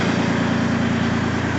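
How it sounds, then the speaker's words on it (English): A tractor engine idles while warming up on a snowy winter day in Prince Edward Island, a steady, close, even rumble with a regular low throb and no talk. "Tractor's going to be warmed up."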